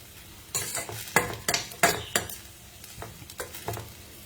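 Broccoli and other vegetables stir-fried in a pan, with a steady run of scraping, clattering stirs over a soft sizzle, close and fairly loud, with no talking.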